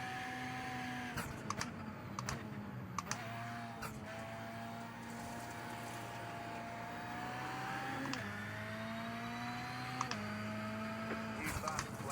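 A race car in the iRacing sim on a dirt road track, its engine droning steadily with repeated rising and dipping revs as throttle is worked, with brief clicks over a constant level.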